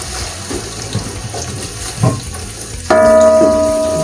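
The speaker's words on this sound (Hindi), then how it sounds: "और 1 कप ऑयल डाला मैंने और उसमें आधा किलो के करीब प्याज इस तरह से काट के बारीक ये डाल दिए" About half a kilo of finely chopped onions dropped into a cup of hot oil for Lahori beef paya, a sudden loud sizzle bursting in near the end after quiet kitchen clatter.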